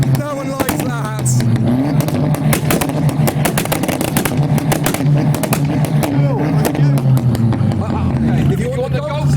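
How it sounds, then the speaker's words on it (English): Crowded street meet where a Volkswagen Golf GTI Mk4 is revved repeatedly, its engine note rising and falling in bursts with crackles, loud and close amid a babbling crowd and shouting. "we've got Mark 4 Golf GTI. Let's see what it sounds like."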